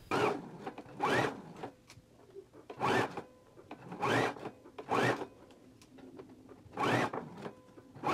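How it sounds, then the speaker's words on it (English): A sewing machine stitches along one side of a zipper using a zipper foot, running in short, evenly spaced bursts of whirring with quiet pauses between, close and fairly soft. "let's go to our machine now and stitch on this side of the zipper"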